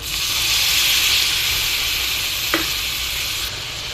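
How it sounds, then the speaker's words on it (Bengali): Garlic paste that has been frying in oil gives a loud, steady sizzle and hiss as a little water is added to it, with a brief clink of a utensil near the end. "আমি কিন্তু রসুন বাটাটা অনেকক্ষণ ধরে একটু ভাজা ভাজা করে নিয়েছি দেখেন তেল বের হয়ে আসছে এর বা এর ভিতরে অল্প একটু পানি দেব"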